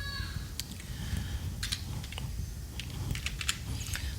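Keys clatter on a computer keyboard as an email address is typed, a quick run of light clicks in irregular bursts over a low background hum, with no talking.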